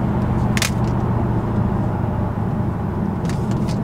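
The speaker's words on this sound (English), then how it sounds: "we just did a 8th mile burnout" A Dodge Hellcat doing an eighth-mile burnout, a loud sustained engine roar with broadband tire noise close by, steady throughout with brief higher squeals near the start and end.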